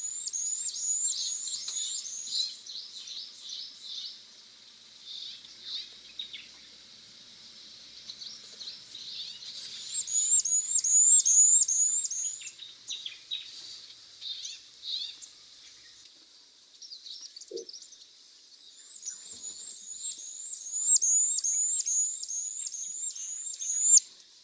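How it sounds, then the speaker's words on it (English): Jordan's bushlark in grassland gives its normal call: repeated bursts of thin, very high-pitched chirps in quick series, sounding near and clear, with quieter gaps between bouts and no voices. "This is the normal call of the Jordan's bushlark."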